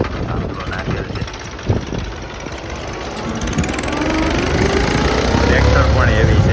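A Mahindra tractor engine runs in a farm field, a rough, steady diesel chug that grows louder and heavier toward the end, with wind noise on the microphone and brief knocks early on.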